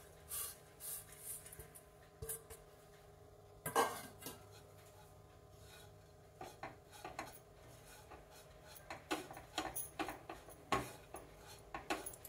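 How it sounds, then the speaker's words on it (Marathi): Grated dry coconut roasting over low flame in a pan while being stirred, giving soft scraping and clinking of a spoon against metal, with a sharper clatter near the start and scattered light scrapes throughout; no talking. "एकसारखं हलवत राहून खोबरं आपण भाजून घेऊया."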